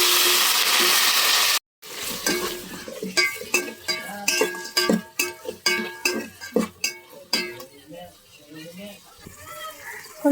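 Onions, tomato and green chillies frying in hot oil in a pan for veg palav, with a steady sizzle and then a run of clinking ladle strokes as the mixture is stirred.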